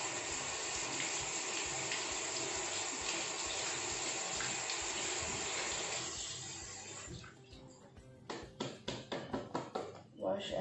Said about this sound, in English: So we have to wash this also.